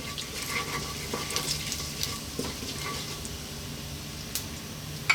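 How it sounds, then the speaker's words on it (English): Cumin seeds sizzle in hot oil for a fish curry, giving a steady close crackle and hiss with small pops and light stirring clinks throughout, and no voices. "Let's drop into that oil those cumin seeds and let them do their thing just for a few seconds"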